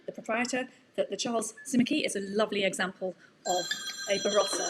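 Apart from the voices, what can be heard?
mobile phone ringing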